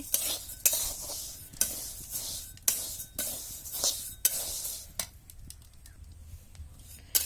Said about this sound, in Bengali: যে মুগ ডাল লাড়ছি